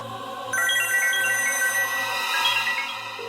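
A phone ringtone plays loudly, a bright electronic melody repeating in short pulsing phrases with no voices.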